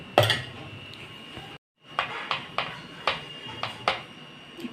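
Plates clattering while mango papad is being made at home: one loud clang at the start, a short silence, then a run of about six sharp, close ceramic clinks at an uneven rhythm.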